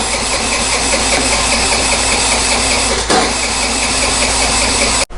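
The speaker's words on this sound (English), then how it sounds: "So now I could flip the key on and try to start it." A Vespa scooter engine cranks and tries to start, a loud, steady, rough mechanical whir running continuously with a slight squeal, then cutting off abruptly near the end.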